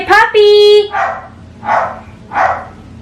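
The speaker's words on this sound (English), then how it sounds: "my dog Pepper is barking" Pepper, a pet dog, lets out a loud whining yelp followed by three separate barks, each spaced about half a second to a second apart, close and loud.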